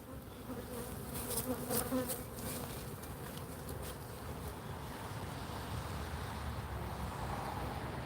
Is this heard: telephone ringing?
no